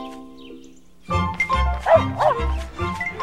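A dog barks and yips repeatedly at close range, with some whimpering, starting after a quiet second, in a French-language dog food advertisement.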